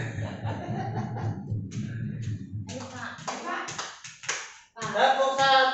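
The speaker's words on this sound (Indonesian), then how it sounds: "Tepuk 1, yes. Tepuk 2, oke. Tepuk 3, semangat." A group of people claps together on cue in short rhythmic bursts, with voices calling out between the claps and talk running underneath.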